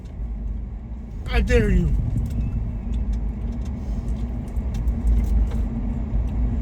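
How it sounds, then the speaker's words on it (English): Steady road traffic rumbles past on a northbound street in Winter Park, Florida, a continuous low roar of cars that stays loud throughout while a voice talks and calls out over it. "Look at all this traffic going northbound."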